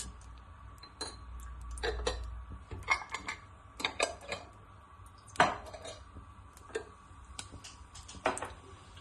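Mustard seeds and cumin seeds sputter in hot oil in a pan, giving faint, irregular crackling pops and ticks over a quiet background.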